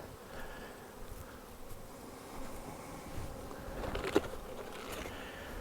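Honey bees hum steadily around an open hive during a honey check, a soft continuous buzz at low level with a brief louder pass near the end; no one speaks.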